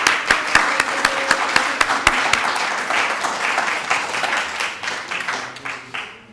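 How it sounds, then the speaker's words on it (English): A church congregation breaks into applause during a Sunday service, a dense wash of clapping with a few sharp, distinct claps standing out early on, then thinning and fading toward the end. "can we just give a round of applause to the wonderful..."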